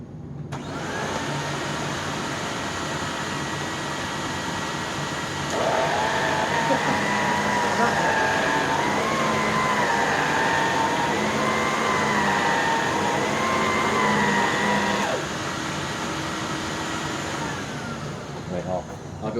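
A canister vacuum cleaner runs with a steady airy whine, rising in pitch and loudness for about ten seconds mid-run, then settling back to its lower drone; no one talks over it.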